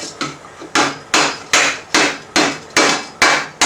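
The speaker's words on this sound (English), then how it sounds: "You can't be afraid to move the metal with a steel hammer and dent it" A steel hammer strikes metal armor being raised into a sallet helmet, ten sharp ringing blows in a steady, evenly spaced rhythm, loud and close.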